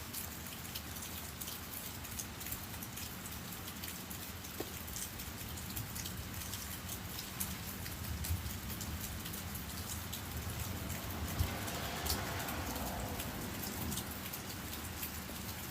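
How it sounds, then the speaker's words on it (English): Steady rain patters down continuously, a broad even hiss of drops on surfaces, with a slightly heavier swell partway through; no voices. "I hear more rain."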